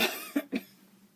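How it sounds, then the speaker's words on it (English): Two quick, fairly soft coughs close together, with quiet room tone around them and no talking. "Excuse me, I got a cough."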